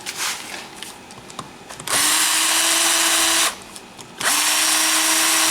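Power drill spinning out bolts from a glued-on motorcycle clutch cover, with two sustained whirring bursts of about one and a half seconds each, loud and close, and a short pause between them.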